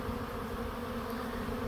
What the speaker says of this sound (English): you'll start to notice more and more bees down here